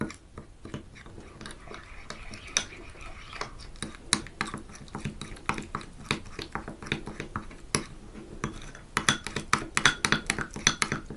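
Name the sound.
stirring a sauce with sweet pepper in a bowl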